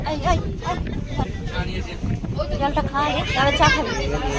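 A passenger launch boat pulls away on the water in the Sundarbans, its engine and wind rumbling steadily close by while several people talk loudly over it.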